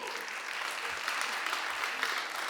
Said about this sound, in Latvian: Ar aplausiem apsveiksim